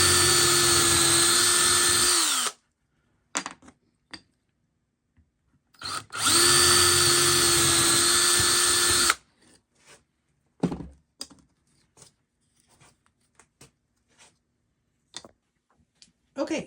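A power drill bores holes in wood pieces for a dog-shaped lamp, two loud whining bursts of several seconds each, the pitch dropping as each one winds down, followed by scattered clicks and handling knocks.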